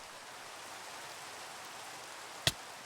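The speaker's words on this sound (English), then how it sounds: "I get hit by the rain, hear a little bit of a spider noise, and then I die." Steady hiss of rain in the Minecraft video game fills the background throughout, with one sharp, very brief click-like hit near the end; no clear spider sound stands out.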